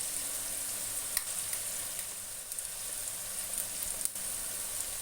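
Green chilli sauce added to a pan of chilli potato, sizzling hard over a high gas flame, a steady close hiss of frying with a few faint clinks of stirring.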